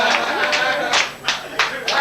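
Studio audience at a 1989 Italian television show gives scattered, uneven clapping in short bursts, moderately loud, with a voice talking underneath.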